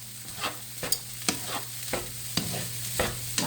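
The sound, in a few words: stirring rice being coloured in a pan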